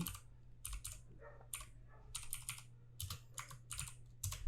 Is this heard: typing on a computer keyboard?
yes